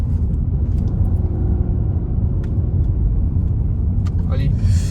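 A 2018 Peugeot 2008 with the 1.2 PureTech 110 petrol engine accelerating in dynamic mode, heard from inside as a steady, loud low engine rumble with road noise throughout, brief clicks and rustles, and people talking in the cabin.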